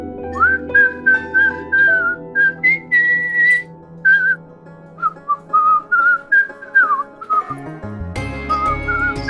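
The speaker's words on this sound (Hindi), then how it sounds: "सीटी का आवाज आ रहा है।" A person whistles a melodic tune in clear, separate phrases, close and prominent, ending with a sudden burst of louder background music.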